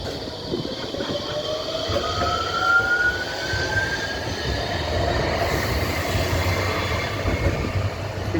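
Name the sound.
Nottingham tram passing by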